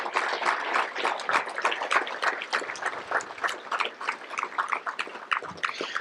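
Audience applause at a sheriff's office awards ceremony, a dense, sustained patter of many hands clapping at moderate volume, with no talk over it.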